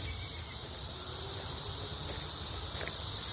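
Cicadas drone as a steady high-pitched shrill hum through a June outdoor walk, continuous and moderately distant, with no talking.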